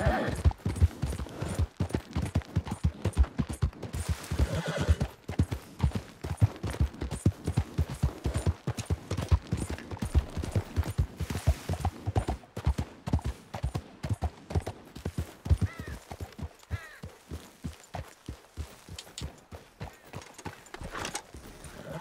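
A horse gallops in Red Dead Redemption 2, its rapid, steady hoofbeats drumming close and loud for most of the stretch before thinning out near the end.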